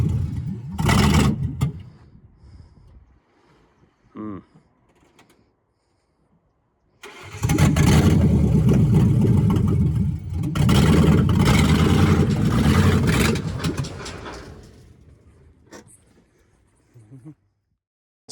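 A 2004 Ford Mustang GT with no radiator cranks and fires up loudly and close, runs for a few seconds, drops off, then restarts and runs roughly for several seconds before shutting down, with brief voices in the pauses.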